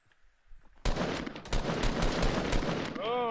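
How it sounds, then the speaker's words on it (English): Rapid gunfire aimed at the player in a squad-based video game, a dense, loud barrage of shots that erupts suddenly after a quiet moment and keeps going without letup. "Oh, I'm getting shot at."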